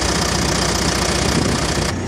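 A John Deere 550J LT dozer diesel engine idles close up, a loud steady knocking rumble with an even rhythmic beat, no talk.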